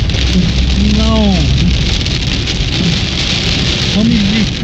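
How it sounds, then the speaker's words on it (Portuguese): Heavy rain pours down during a storm on the BR-163 highway and makes a dense, constant roar. A voice is briefly heard under the downpour, which stays loud and close the whole time. "Chuva, muita atenção."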